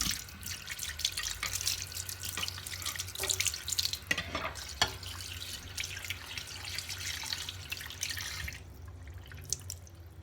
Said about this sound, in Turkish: Şimdi şöyle ciğerlerimizi yıkıyoruz.